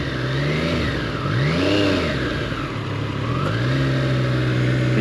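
Engine of a Triumph Street Triple R motorcycle revving up and down, pitch sweeping higher and falling back in a couple of swells over a steady running drone, loud and close with no talk.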